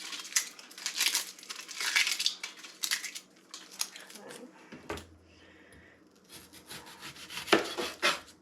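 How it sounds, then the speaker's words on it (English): Papery skin being peeled off an onion for clam chowder, with close crinkling and rubbing in bursts and quieter pauses between them, while a person speaks at times. "Get the skin off."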